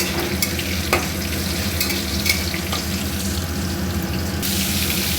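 Bitter gourd seasoned with salt and turmeric frying in a hot kadai, giving a steady, close sizzle throughout with occasional light scraping and stirring clicks.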